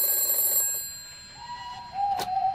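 An old-fashioned telephone bell rings in a railway signal box in a children's train story, a short bright trill breaking over a sustained whistle-like tone.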